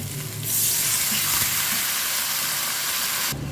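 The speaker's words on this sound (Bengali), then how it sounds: "এখন আমি পরিমাণ মতো জল দেব" Water poured into a pan of frying spice paste for a vegetarian chhana (paneer) curry bursts into a loud, steady sizzling hiss after a brief quiet start, then cuts off near the end.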